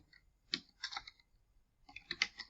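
Keys clatter on a computer keyboard in short bursts of quick typing with a brief pause between them, close and clear against a quiet background.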